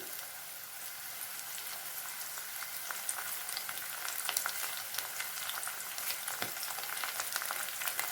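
Sliced onion, green chilies and curry leaves fry in hot oil for a masala curry, a steady close crackling sizzle with scattered pops that grows slightly busier, and no one speaking.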